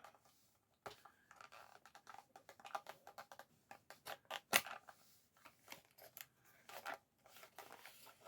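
Knife slicing through plastic and cardboard packaging on a retro Boba Fett action figure, a run of quiet, scratchy cuts and crinkles with one sharp louder snap midway, close and with no talking.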